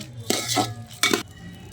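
Washed rice stir-fried in ghee for fried rice, two short bursts of scraping and clinking of a spoon against the pan over a faint low sizzle, no talk.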